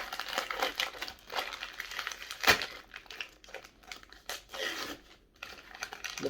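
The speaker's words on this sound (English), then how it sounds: "let's get it unwrapped and let's see what we've got" Close, irregular bursts of crinkling and tearing paper as a well-wrapped Christmas Kitty beer bottle from Brass Castle Brewery is unwrapped, with one sharp louder rip midway.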